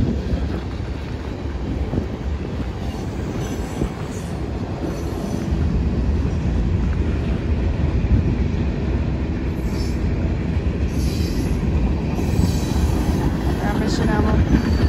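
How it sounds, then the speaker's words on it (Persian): A train rumbles past steadily in Seattle near the waterfront, a heavy continuous roar of wheels on rails with faint high squeals, heard from close by. "اینم صدای قطاره."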